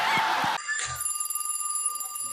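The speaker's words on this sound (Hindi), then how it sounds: "अरे देखो तो ये दूध वाली का फोन आ रहा है" A telephone ringing indoors during a comedy sketch, its steady electronic ring tones sustained over a short stretch after a brief burst of noise, fairly clear and alone.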